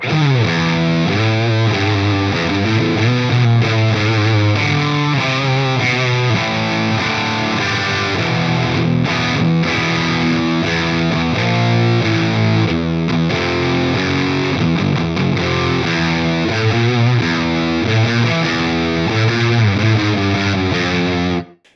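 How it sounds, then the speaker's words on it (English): Guitar runs through a Fractal Audio Hard Fuzz drive model into a dirty amp, giving a thick, saturated, doomy tone as sustained riffs and chords play loud and continuous before stopping abruptly at the end. "The next pedal on the list is this Hard Fuzz."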